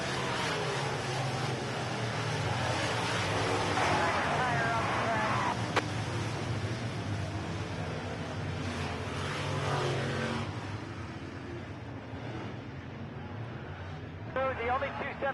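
Modified race cars lapping a dirt oval track during a C-Main race, a continuous broad engine roar swelling and fading as the pack passes, with an announcer talking over it throughout.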